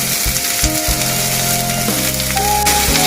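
Onions hit hot oil in a pan, giving a loud, steady sizzle that runs the whole time, with a few low tonal scraping and clunking sounds mixed in.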